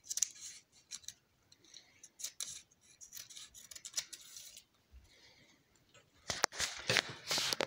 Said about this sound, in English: cutting down the middle.